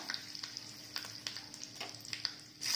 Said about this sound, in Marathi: त्याच्यासाठी आपण आता एक खमंग फोडणी करून घेऊया